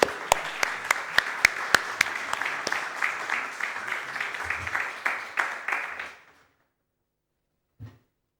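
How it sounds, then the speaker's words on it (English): Applause at a tourism-friendly cities meeting, with a few sharp, distinct claps over a light patter of hands that fades out after about six seconds, followed by one brief muffled knock. "a round of applause"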